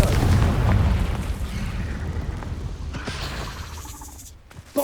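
A Confringo fire-blast spell goes off in Hogwarts Legacy as one loud, booming explosion right at the start, then a rumbling tail that thins out over several seconds, with a brief sharp pop near the end.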